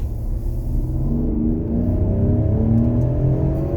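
A 2020 Ford Explorer ST engine revs steadily and close, its mid-pitched drone holding level with slight rises in pitch and no voices over it.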